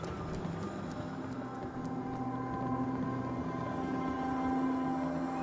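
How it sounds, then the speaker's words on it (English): Steady low mechanical drone with a constant tonal hum from a helicopter in Fallout 4, holding at a moderate level throughout without any talking. "And I hear a chopper."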